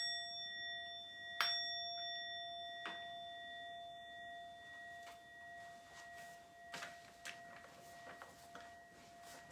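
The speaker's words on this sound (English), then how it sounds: "Tibetan gong." A small Tibetan gong is struck, ringing out with a long sustained tone that slowly fades, followed by soft faint taps and ticks in a quiet room.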